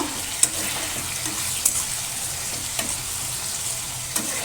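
Chopped onion fries in oil in a pan, giving a steady, even sizzle at close range, broken by a few sharp ticks from a stirring spoon.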